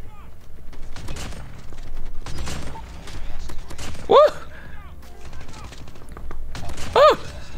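Two sharp shotgun blasts from the Damascus R9-0 in a first-person shooter, a few seconds apart, each ending in a ringing metallic sound, set among softer in-game clatter and someone talking.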